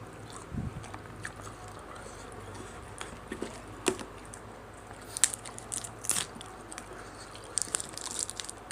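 Close, quiet crunching bites and chewing of food from people eating a Thai spicy grilled beef dish with bitter jaew dipping sauce, sporadic crisp bites and soft mouth sounds over a low background hum.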